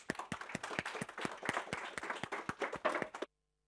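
Applause from an audience at a talk on North Korea and the United States, fairly close, with distinct individual claps in a brisk uneven rhythm, ending abruptly into silence after about three seconds.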